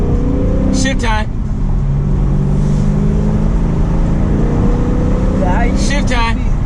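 A car engine runs in first gear with paddle shifters: a steady, fairly loud drone that holds a constant pitch, with brief voices breaking in near the start and end.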